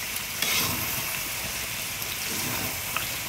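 Food frying in hot oil, a dense, constant close sizzle and crackle with occasional small pops and no talking.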